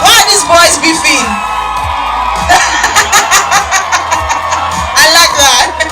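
A university class awards-night crowd screams, whoops and cheers loudly and continuously, with bursts of laughter and shouting rising and falling in waves over about six seconds.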